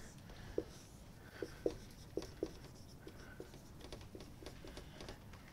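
A diagram is drawn by hand on a board or paper, with a few sharp taps and strokes spaced irregularly and quiet friction in between, fairly faint and alone without talk.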